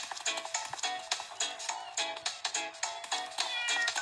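A cat meows repeatedly in quick succession, close and fairly loud, with insistent, overlapping cries and no talking.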